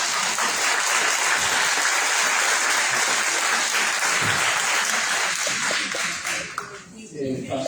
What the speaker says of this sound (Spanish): un aplauso a las Carmelitas